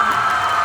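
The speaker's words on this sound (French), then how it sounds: "on peut applaudir plus fort" Steady wash of crowd applause and cheering from an audience at a cosplay contest, loud and sustained through the short moment, with no distinct voices standing out.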